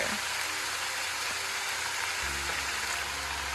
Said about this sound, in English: And now we're going to add the sauce in and mix everything together.